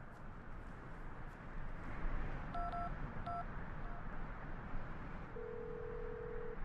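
Phone dialing in the video game Syberia II: a few short keypad tones beep in quick succession near the middle, then a steady ringing tone begins, all faint over a low background hiss.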